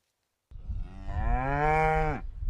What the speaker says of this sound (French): Une vache qui meugle